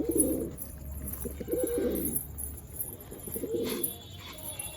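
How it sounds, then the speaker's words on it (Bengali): Pigeons at a house cooing while being fed wheat, several low throaty coos in repeated bursts close by, with faint chirps above and no talk. "পায়রাগুলো খেতে নিচ্ছে"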